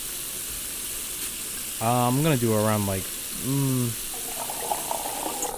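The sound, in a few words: cold water being poured into a pot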